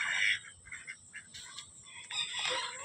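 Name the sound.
ducks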